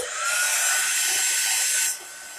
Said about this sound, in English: now I'm going to grab my heat gun and we're going to heat that up again so it's going to get loud